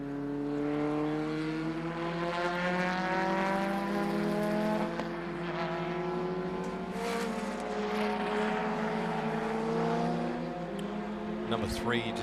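The number 3 Argo AF2000 race car drives past on the track at Euromark Motorsport Park during the SKOPE Classic historic meeting. Its engine note rises and falls as a droning pass, heard at a moderate distance.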